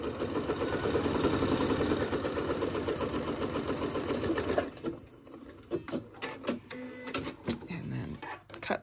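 A sewing machine stitches a quilt block in a continuous mechanical whir for about four seconds, close and loud, then stops, leaving scattered handling clicks and rustles.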